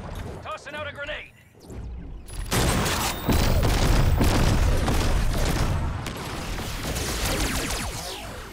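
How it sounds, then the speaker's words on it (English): A grenade detonates in the video game Agents of Mayhem: a loud, broad explosion blast follows a brief voice, then a sustained rumble of chaotic combat noise and debris continues for several seconds. "Tossing out a grenade."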